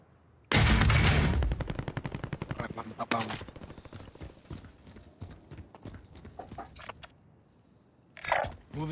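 Rapid gunfire in the shooter Call of Duty: Modern Warfare (2019), loud bursts of shots opening hard and then continuing as sparser cracks, with a voice talking over part of it.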